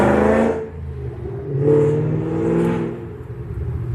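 A Ford Mustang engine revving out in a residential neighborhood, two or three swelling roars rising and falling over a low steady rumble, fairly loud and heard from outside.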